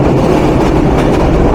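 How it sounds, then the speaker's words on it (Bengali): The Madhumati Express intercity train runs at speed in the rain, a loud, steady rumble with rhythmic clickety-clack of the wheels heard from inside the carriage. "আর ট্রেন মোটামুটি বেশ ভালোই গতিবেগ নিয়ে ছুটে চলছে।"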